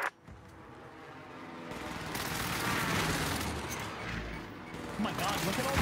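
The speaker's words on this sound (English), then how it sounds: "Here's the target for airstrike. This is Phoenix 3. Strike inbound." In a shooting video game, an airstrike sets off a dense wash of explosions and gunfire that builds after a brief pause, rumbling loudly and continuously with crackling shots throughout.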